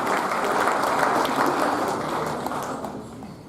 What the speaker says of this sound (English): let's hear a huge round of applause, ladies and gentlemen